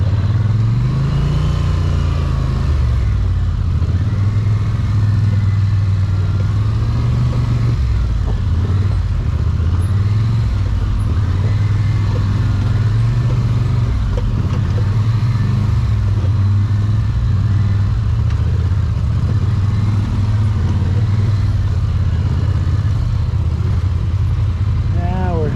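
An off-highway vehicle crawls along a trail in low gear, its engine a continuous close rumble with gentle surges in pitch throughout, while people talk over it now and then.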